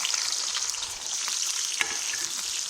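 Brinjal pieces frying in oil in a pan, giving a loud, continuous close sizzle with small crackles and a few stirring clicks, no one speaking.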